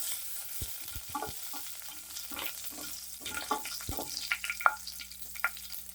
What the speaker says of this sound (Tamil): கடுகு கொஞ்சமாக போட்டுடலாம். கடுகு பொரியும் போதே